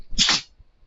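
A single short sneeze, a sharp burst of breath lasting about a third of a second, up close and fairly loud, followed by quiet.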